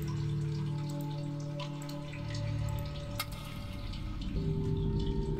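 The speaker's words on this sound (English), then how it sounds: "Where is the water coming from?" Water drips steadily inside a cave in the game Sisyphus Reborn, scattered irregular drops over a low droning ambient hum, moderately quiet with no voices.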